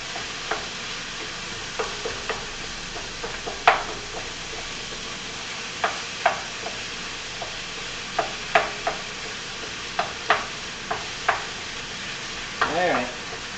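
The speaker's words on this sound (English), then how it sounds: "Just chopping up the meat, guys." Ground meat is broken up and stirred in a hot frying pan for taco night, giving a continuous sizzle with frequent sharp scraping and tapping strikes at an irregular pace, close to the microphone.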